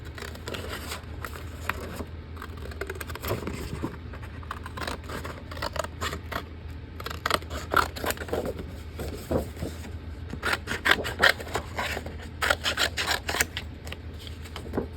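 Scissors snip through paper in a series of crisp, close cuts, some slow and single, others in quick runs, with light rustling between.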